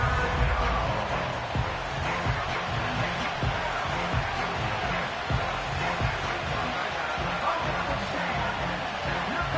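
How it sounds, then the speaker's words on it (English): A football stadium crowd roars at a Colts versus Golden Eagles game, a dense, loud, continuous wash of cheering that holds steady throughout with no single voice standing out. "This crowd turning up the decibel level"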